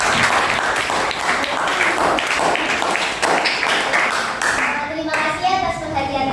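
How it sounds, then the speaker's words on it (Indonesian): Classroom applause for a student group that has just given a class presentation, with sustained clapping from many children filling the room, blended with some lively chatter. "Kita beri aplaus."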